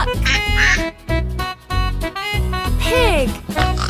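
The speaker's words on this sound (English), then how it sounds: "Duck." Duck quacks over a bouncy children's song about farm animals, several nasal quacks standing out against steady rhythmic music.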